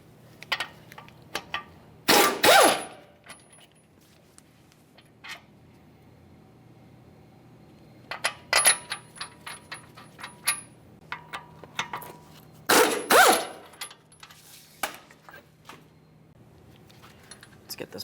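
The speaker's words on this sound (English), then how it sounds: "Now I'm going to fully remove my upper mounting bolt" Upper brake caliper mounting bolt on a Ford F-150 front wheel being backed out by hand, with a few clanking metallic bursts of wrench and bolt against the caliper and a run of small ticks between them, close up under quiet surroundings.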